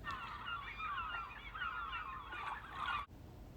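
Seagulls calling in a loud, continuous overlapping chorus of squawks and cries that cuts off abruptly near the end.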